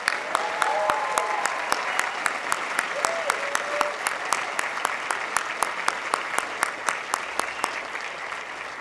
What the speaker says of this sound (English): let's get a round of applause for our amazing faculty